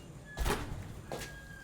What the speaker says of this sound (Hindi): ये दरवाज़ा कैसे बंद हुआ है?